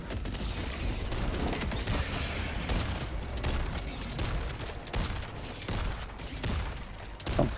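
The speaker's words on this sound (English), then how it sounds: "Firing orbital strike." Orbital strike explosions in Helldivers 2 pound a bug outpost, a dense run of heavy booms and rumbling blasts mixed with rapid gunfire and mechanical clatter, loud and sustained throughout.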